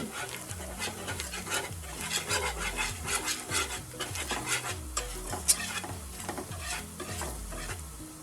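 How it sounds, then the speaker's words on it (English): A cream sauce of half and half and heavy cream for Alfredo penne is stirred in a pan, giving a steady rhythmic scraping and swishing that loops continuously at close range, with faint sizzling underneath. "Stir it in, let it incorporate properly."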